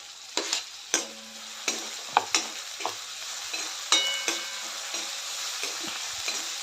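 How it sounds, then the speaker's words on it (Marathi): Chopped onion and tomato are sautéed in a pan for a Marathi vegetable dish, a steady soft sizzle broken by a series of distinct spatula scrapes and clinks against the metal, close and moderately loud. "कांदा टोमॅटो मऊ होईपर्यंत होईपर्यंत परतून घेऊया"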